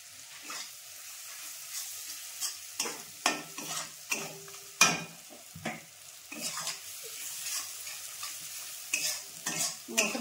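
Spice masala with Kashmiri chili powder stirred in a pan for mutton paya, soft sizzling frying under repeated scraping strokes of a spoon, quiet and close.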